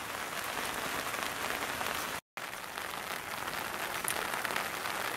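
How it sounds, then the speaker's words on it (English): Heavy rain pours outside a lean-to shelter, a dense, even hiss of drops striking surfaces that is briefly cut off for a moment. "It's raining like crazy out."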